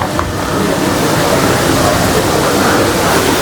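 Water pours steadily from the holy spring spouts into the bathing pools at Tirta Empul temple in Ubud, Bali, making a loud, continuous close-up rush with no break.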